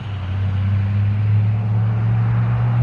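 A motorcycle rides along steadily, its engine giving a smooth, continuous low drone at close range with no voices over it.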